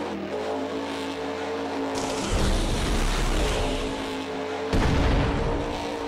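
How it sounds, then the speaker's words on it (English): Mohawk Warrior monster truck racing a time attack event in the Monster Jam video game, its engine a steady loud roar with two heavy booming surges of rumble, like landings or bursts of throttle, and no talk over it. "We're gonna take Mohawk Warrior through this time attack event and see what kind of speed he's got."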